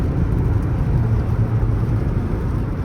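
Volvo XC90 2014 with a 2.4 diesel (147 kW), AWD and Aisin automatic on a road test drive: a steady, close low rumble of engine and road noise with no talk.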